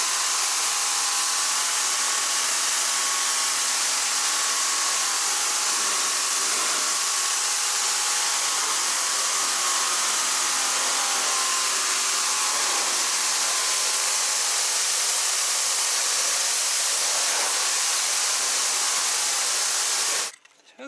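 A Greenworks 2300 electric pressure washer runs alone with a steady, loud hiss of spray for around twenty seconds, then stops abruptly at the end.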